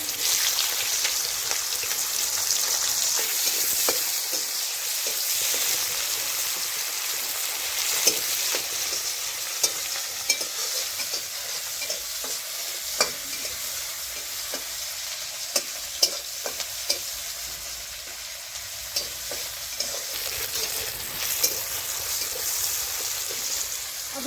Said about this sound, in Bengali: ফোড়নে দিয়ে দেবো কুচানো পেঁয়াজ কুচানো টমেটো